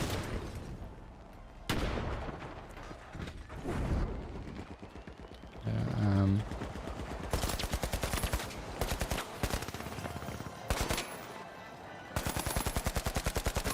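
Gunfire in a first-person shooter video game, with a frag grenade thrown: rapid bursts of shots and sharp impacts come and go throughout, loud and close, with a short whooshing throw in the middle.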